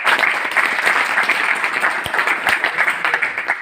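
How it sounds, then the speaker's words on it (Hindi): A crowd in Bhadra applauds loudly to welcome a cabinet minister, a close, thick burst of clapping that stays strong and even from start to finish, with a few sharper individual claps standing out. "भादरा के लोग तालियां बजाकर कैसा स्वागत करते हैं ये बता दीजिए"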